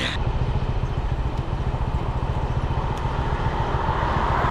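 Motorbike riding through Siem Reap: a steady, rumbling engine drone with wind noise holds for the whole stretch, loud and close.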